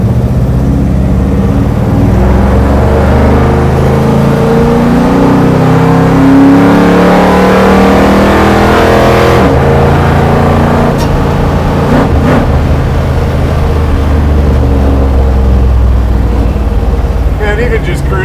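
A HEMI-powered 1968 Dodge Charger built for land speed racing cruises along, its loud steady V8 rumble and drone filling the cabin throughout, with no words spoken.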